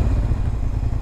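A Suzuki SV 650 motorcycle with a COBRA SC3 exhaust rumbles close and loud, a deep steady throbbing engine note with a faint clattery edge, no talk.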